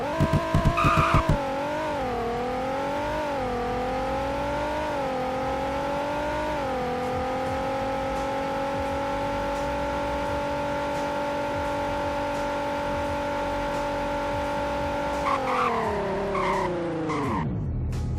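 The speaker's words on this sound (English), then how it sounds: "And now for a 0 to 100 braking test." A car in the Roblox game Greenville brakes hard from 100 with a long, steady, loud tire skid that wavers in pitch for about sixteen seconds. The squeal then drops away abruptly as the car stops.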